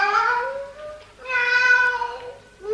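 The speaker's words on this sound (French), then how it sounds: "Ouvrez-moi la fenêtre. Je suis votre chat." A cat meows twice in long, drawn-out, fairly loud cries with a short pause between them, and a third meow begins at the end.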